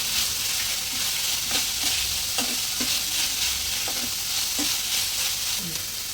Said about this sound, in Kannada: ಚೆನ್ನಾಗಿ ಕ್ಯಾಪ್ಸಿಕಮ್ ನೀಟಾಗಿ ಫ್ರೈ ಆಗಿ.